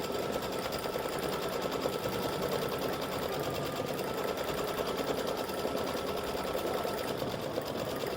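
An embroidery machine stitches a light underlay on white background fabric, running continuously with a fast, even mechanical chatter close by and no talking.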